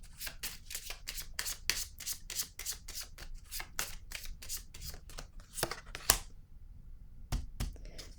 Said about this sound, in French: Je vais déposer une carte sur l'héritage à l'envers